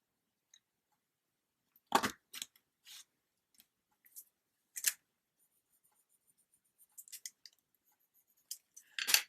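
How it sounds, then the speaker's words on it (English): Scissors make sharp, close snips into vintage paper, with scattered single cuts and small clusters of crisp clicks spaced by near-silence. "I'm going to make a little bit of a cut in here too."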